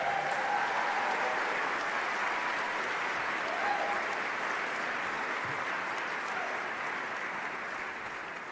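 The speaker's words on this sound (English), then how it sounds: "I think that deserves another round of applause." A large audience at the 20th annual IGF indie game awards show claps in sustained, dense applause that stays loud and even throughout, fading slightly at the end.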